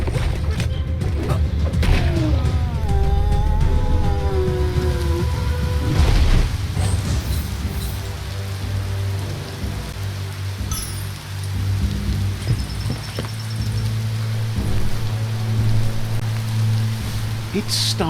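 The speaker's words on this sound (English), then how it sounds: "It's starting to rain." Rain falling in the action RPG Biomutant, a steady wash of drops under game music, ambient effects and occasional thuds, continuous throughout.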